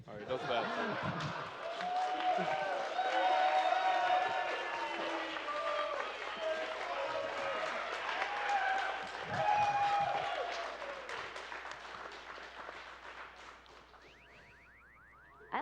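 A live crowd at the AGDQ 2017 speedrunning charity event applauds and cheers loudly for several seconds, sustained clapping that gradually tapers off, with voices talking over it.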